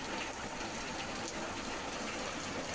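Hailstorm rain falls in a dense, continuous roar, a broad even wash of pattering impacts with no breaks, moderately loud and alone without voices.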